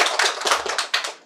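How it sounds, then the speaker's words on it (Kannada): Scattered audience clapping at a Kannada children's magic show, a handful of uneven bursts of hand claps that thin out and fade over about a second, no talk. "ಎಲ್ಲರಿಂದ ಜೋರಾಗಿ ಚಪ್ಪಾಳೆ ಬೇಕಪ್ಪ ಇಷ್ಟ ಆದ್ರೆ."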